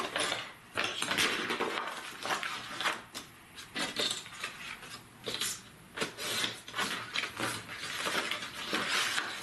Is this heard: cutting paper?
yes